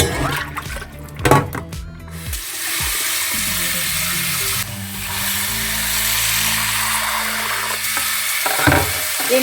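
Onions sautéing in a pan for a dried fish (karuvadu) thokku: a few clattering knocks at first, then a steady, close frying hiss that carries on to the end.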